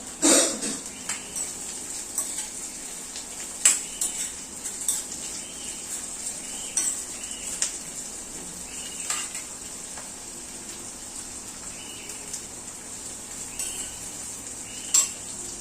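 Onion roasts in a pan for a spicy Malvani-style mutton curry, with a soft continuous sizzle and repeated spoon scrapes and clinks against the metal as it is stirred, no talking.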